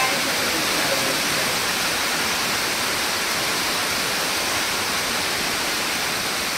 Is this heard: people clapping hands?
no